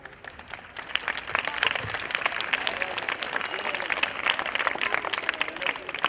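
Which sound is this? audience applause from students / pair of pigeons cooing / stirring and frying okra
audience applause from students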